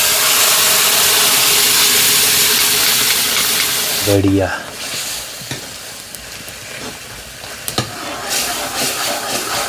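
Dal cooking on a gas stove in a mountain village kitchen, with spices stirred in: steady loud sizzling and frying hiss with stirring scrapes, then a sharp burst as ingredients hit the pot, followed by quieter bubbling and a brief spoken word.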